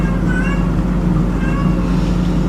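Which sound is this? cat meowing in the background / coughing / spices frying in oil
cat meowing in the background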